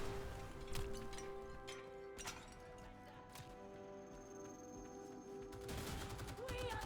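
A marksman rifle in Warframe fires a handful of sharp, spaced shots, loud and close, mixed with game effects and a steady tonal hum.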